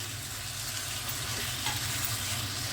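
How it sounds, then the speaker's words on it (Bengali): Drumsticks dropped into hot masala in a pan for a village-style drumstick curry, giving a loud, continuous close-up sizzle and frying hiss with faint stirring, no voices. "এবারে আমি সজনে ডাটাটা ছেড়ে দিচ্ছি"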